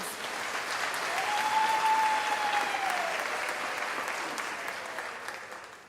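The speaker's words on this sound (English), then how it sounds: "This deserves an applause, colleagues." An audience at a Unisa autumn graduation ceremony claps in a long, even wave of applause that swells gently and then tapers off, with a faint whistle-like tone drifting through the middle.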